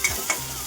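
Avare beans with chilli powder fry in a pan under a soft, constant sizzle while a spoon stirs them, giving two quick light scrapes in a brief moment, close and without talking.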